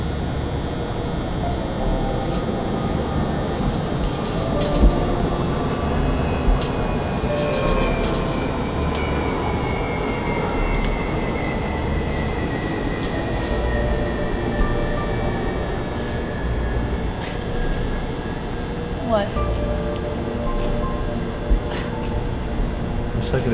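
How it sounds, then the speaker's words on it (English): Train station ambience with a steady, dense rumble of rail traffic and a sustained whining tone that slowly falls in pitch, broken by scattered metallic clicks and clanks, heard continuously at moderate loudness without clear talk. "Look at this train station"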